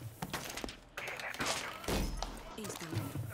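Rapid bursts of video-game gunfire aimed at a drone, with thuds and muffled impacts spread across the clip, fairly close and mixed with voices talking over it.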